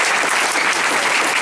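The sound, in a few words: applause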